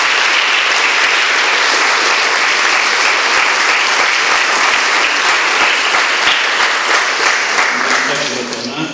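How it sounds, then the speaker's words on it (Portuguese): Loud, sustained applause from a congregation at a collective wedding ceremony, steady dense clapping for about eight seconds before it begins to thin out at the end. "Mais um aplauso bem forte."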